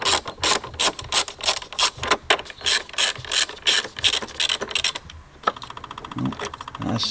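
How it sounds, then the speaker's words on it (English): A ratchet tightens bolts on a car strap with rapid, loud clicking bursts up close, followed by a steadier mechanical whirring at the end. "Let me do these two bolts up a minute."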